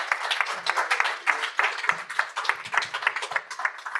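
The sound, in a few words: audience applause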